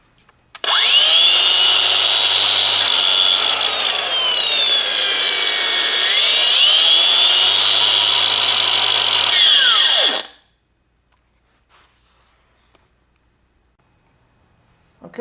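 A Makita DGA513 angle grinder spins freely with no load, a loud high-pitched whine that sweeps up and down as the speed dial changes, then winds down abruptly into near silence.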